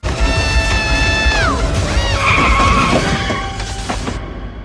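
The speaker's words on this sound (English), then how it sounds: "Or get hit by a car." In a film scene, a car's tires squeal in a long, loud skid that bends downward, then a brief thudding impact as it hits a person, with street noise after.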